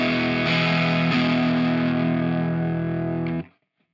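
Distorted electric guitar through a Fender Tone Master Pro with a 200 Hz low cut filter, played alone: one sustained, thin-sounding chord held with two re-picks, then abruptly cut off near the end.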